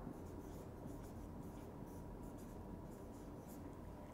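A pen or marker writing a word on a board during a math lesson: faint scratchy strokes in a steady run of short bursts, close but quiet, with no talking.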